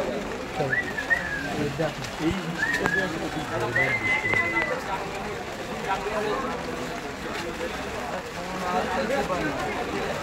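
Soft pigeon coos rise now and then over a busy crowd of talking voices at a street market, close by and partly masked by the chatter.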